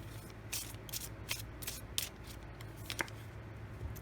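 A tarot card is drawn from the deck, making soft papery shuffling and sliding noises with several quick crisp flicks and rubs, close and quiet.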